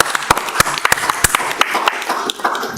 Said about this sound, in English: a big round of applause for our mums